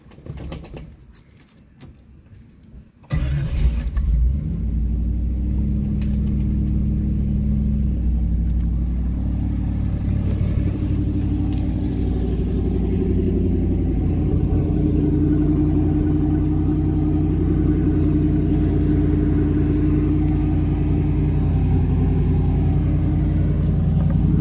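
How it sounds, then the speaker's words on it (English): A third-generation Chevrolet Camaro engine idles with a deep, throaty rumble through a newly installed Flowmaster exhaust after starting up, holding a steady low growl close by with slight fluctuations. "let's see how this car sounds"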